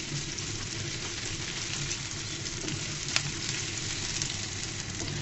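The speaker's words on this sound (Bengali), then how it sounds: "যত সম্ভব লাল লাল করে ভেজে নিতে হবে পেঁয়াজ কুচিগুলোকে।" Chopped onions fry in a pan, browning to a reddish color, with a steady, even sizzle throughout and one faint tap or stir click partway through.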